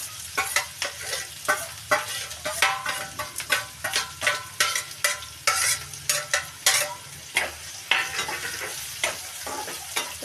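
Green chillies and vegetables fry in a pan for a bread toast dish, with a steady sizzle under repeated rhythmic stirring scrapes and clinks of a spatula, close up and with no voices.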